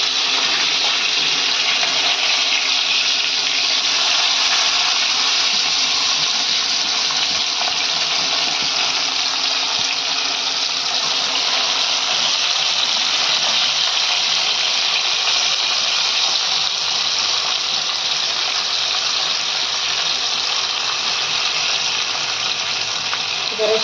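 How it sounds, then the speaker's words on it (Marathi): Stuffed brinjal sizzling in hot oil in a wide kadhai over a low gas flame, a steady broadband hiss and crackle running unbroken throughout with little variation. "आणि आता ह्याला गरम तेलात आम्ही सोडतोय"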